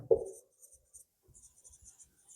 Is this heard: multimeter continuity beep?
no